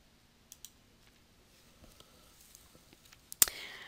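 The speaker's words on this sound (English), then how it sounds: "you're going to click Save" A few quiet computer clicks, light and scattered, ending in one crisp, sharper mouse click on Save in office-software work, with no talking.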